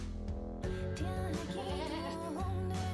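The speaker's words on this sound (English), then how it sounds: "Celebratory goats." Goats bleat in a speedrun video game, wavering, nasal cries that overlap and repeat across the whole stretch, loud and close with no talk over them.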